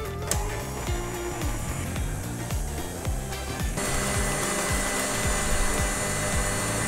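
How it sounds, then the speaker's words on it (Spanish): An electric mixer beats egg whites, stepping from its lowest speed toward its highest: a steady close motor whine that jumps to a brighter, louder pitch partway through, with no talking. "lo que vamos a hacer ahora es comenzar a batir nuestras claras desde la velocidad más baja hasta la más alta"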